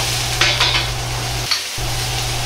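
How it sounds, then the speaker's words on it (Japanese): Chicken, garlic, ginger and chili sizzle and crackle steadily in a hot wok, with a few scraping stirs of a utensil; the frying briefly cuts out, then resumes. "ニンニク生姜が油で弾いてきたら、油通しした具材を全部入れます。"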